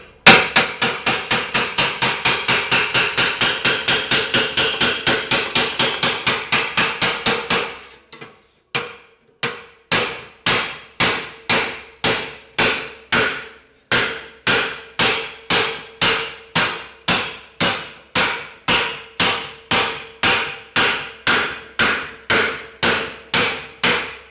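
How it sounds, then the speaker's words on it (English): Blunted cold chisel hammered through sheet metal during repair panel making: a rapid run of sharp, close metallic blows, then a brief pause and a slower, evenly spaced series of strikes, with no speech. "I'm just going to use a cold chisel that's blunted and just gently go through it"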